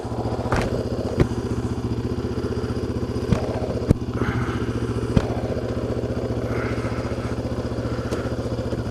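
Motorcycle ridden along a trail, its engine droning steadily and close with a low pulsing idle-to-cruise note, punctuated by occasional thuds and clatters from the bumpy ground.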